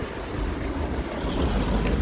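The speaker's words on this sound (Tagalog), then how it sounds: "Hindi naman malakas ang ulan eh. Hangin ang malakas eh." Heavy typhoon rain and strong gusting wind recorded while walking outdoors, a loud continuous roar with deep rumbling buffets across the whole stretch and no voices.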